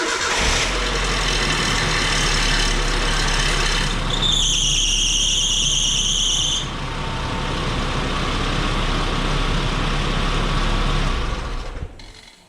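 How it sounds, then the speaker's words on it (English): A 1997 Nissan Hardbody truck engine cranks and starts, then idles loudly and steadily nearby with a metallic timing chain rattle running under the engine note, while a high whine is briefly heard partway through. "if you heard that rattling, that's my timing chain"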